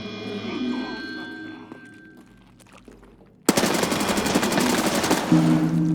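Automatic gunfire aimed at a boss in Escape from Tarkov erupts suddenly as a loud, fast, evenly spaced burst of shots lasting a couple of seconds after a quieter stretch of ambient game sound.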